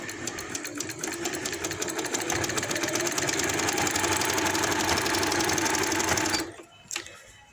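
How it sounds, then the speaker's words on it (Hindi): A sewing machine hums close and loud as it stitches lace along a round neckline on fabric, running for about six seconds before it halts, followed by a couple of small handling clicks. "तो ये लेस पे मैंने सिलाई लगा ली है"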